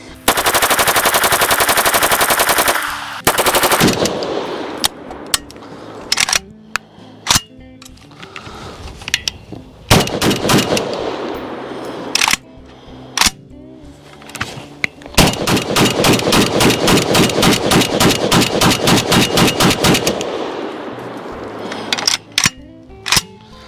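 A Palmetto AK-102, a US-made 5.56 AK-pattern rifle firing without a suppressor: loud, close rapid strings of shots in long bursts, with single sharp reports and short pauses between them.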